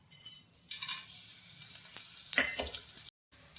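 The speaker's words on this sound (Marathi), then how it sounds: "आणि आता फोडणी होते मटणाची." Mutton tempering in a pan with a home-ground onion and coconut masala, Kashmiri chilli powder, mutton masala, turmeric and salt, giving a steady close sizzle with stirring scrapes and clinks, then a brief cutoff near the end.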